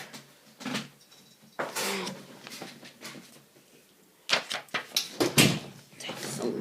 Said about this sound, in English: can you do a favour, shut my door?